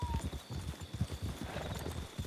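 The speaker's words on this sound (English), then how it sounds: "Horse on our left." Horse hooves clip-clop at a steady trotting rhythm in the RedM Red Dead roleplay game, fairly faint and continuous over a quiet ambient background with a thin tonal hum.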